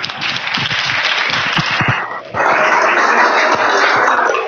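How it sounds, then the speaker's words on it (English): An audience applauding at an Earth Day church gathering, dense steady clapping that briefly dips then swells louder again, with a few barks or yips mixed in. "And I think Barbara needs a lot of applause."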